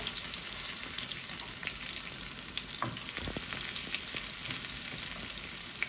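Garlic and onion fry in hot oil for dal, a continuous close sizzle with a few stirring scrapes and no speech.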